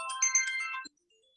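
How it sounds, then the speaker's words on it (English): A phone ringtone from an incoming call chimes a short, bright melodic phrase, close and clear, then cuts off abruptly into silence. "sorry, call came in."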